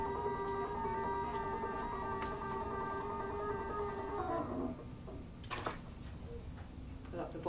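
Computerized IQ quilting machine traveling to its starting point, a steady motor hum with stacked tonal lines that stops partway, followed by a few brief mechanical clicks and ticks in a quiet room.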